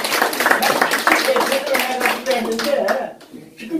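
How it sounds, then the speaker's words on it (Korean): An audience at a North Korea nuclear forum at the Unification Hall claps in a dense burst of hand claps mixed with voices, thinning out toward the end. "박수 쳐요."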